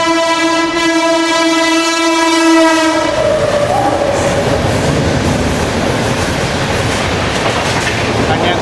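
The 12840 Chennai–Howrah Mail superfast express sounds a long, loud horn for about three seconds, then rumbles hard through Bapatla Road station without stopping. A roaring clatter of wheels and wind fills the rest.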